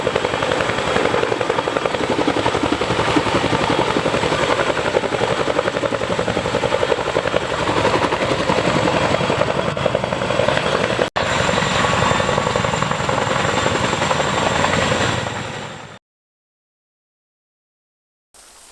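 Boeing CH-47 Chinook tandem-rotor military helicopter, a loud, steady, dense roar of rotors and turbine engines that holds constant for about fifteen seconds before cutting off abruptly.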